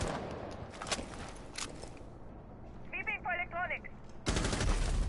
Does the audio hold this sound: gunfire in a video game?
yes